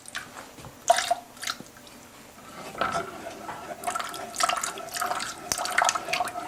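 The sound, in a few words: coconut milk poured into soup saucepan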